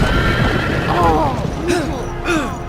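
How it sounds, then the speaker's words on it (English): Horses whinny repeatedly and loudly in a Game of Thrones video game scene, the neighs rising and falling over a bed of hoofbeats and commotion. "Get run over by the horses"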